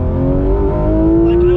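A 991.2 Porsche 911 GT3 RS engine revs hard and loud in the high RPM range, a steady rising howl held close throughout with no talk.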